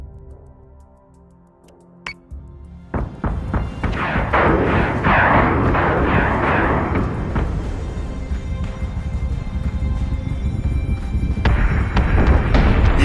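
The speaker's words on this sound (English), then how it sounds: "This may be a good opportunity to fire all of the missiles." Missile salvos launching and detonating in Battlestar Galactica Deadlock: a sharp initial report, then a dense, loud roll of overlapping booms and crackling impacts that swells again toward the end, with no talking.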